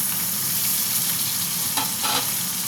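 Ginger, green chili and tomato hitting hot oil in a frying pan while cooking a Bengali pabda fish curry with eggplant, a steady loud sizzle with stirring scrapes and two brief bursts near the end, no talk.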